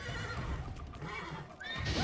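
A horse whinnies and neighs in the Witcher 3: Blood and Wine video game, a loud drawn-out call over a dense bed of game ambience and movement noise, no talk.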